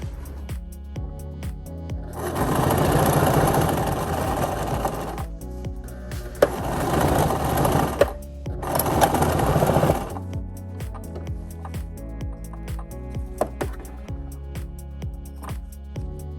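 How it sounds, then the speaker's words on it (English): A sewing machine stitches the corners of box cushions for a van conversion dinette bed in a RAM ProMaster 1500, running in three loud close bursts of rapid whirring with brief pauses between them and quiet handling noise afterward. "I'm going to sew it, make sure that it's really good on each end because these are my corners on the boxes"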